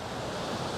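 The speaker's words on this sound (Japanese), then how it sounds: "風の音とか。" Wind buffeting a wireless clip-on microphone outdoors, producing a steady, dense roaring rumble close to the mic with no voice present.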